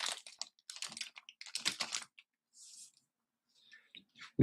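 Quick bursts of typing on a Redragon K618 Pro low-profile RGB keyboard, clusters of close, crisp key clicks separated by short pauses, ending in a couple of isolated taps.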